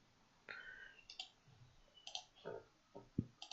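Computer mouse clicks in a quiet room, a handful of sharp, close, isolated ticks spaced irregularly about half a second apart, with faint room hiss between them.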